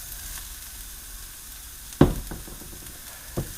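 Rice going into a hot pan for lemon rice pilaf: a sudden loud sizzling burst over a faint steady frying hiss, followed by a smaller second sizzle near the end.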